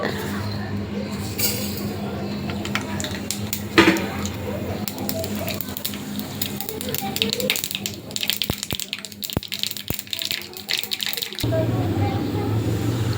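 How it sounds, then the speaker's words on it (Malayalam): Mustard seeds crackling and popping in hot coconut oil, sharp irregular spits and sizzle close by under a continuous frying hiss, with talk in the background. "എണ്ണ ചൂടായി നമുക്കിനി കടുക് ഇട്ട് കൊടുക്കാം"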